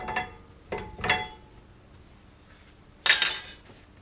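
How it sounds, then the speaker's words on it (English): Brake pads pulled out of a 2005 Acura TL caliper with pliers give a few sharp metallic clinks and rattles, close and distinct, with quiet gaps between them. "Grab hold, give it a few wiggles, brake pads come out."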